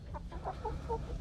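Several roosters and hens cluck softly at a backyard flock, a few brief calls over a low rumbling background.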